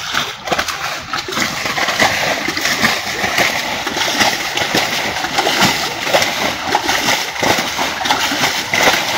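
Water splashes and sloshes continuously as freshly caught fish are strained from their water outdoors, a dense, steady wet churning with brief bursts of louder splatter throughout.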